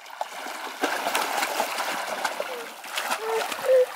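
A young boy swimming makes repeated close splashes and sloshing in the water, with a brief gurgle near the end.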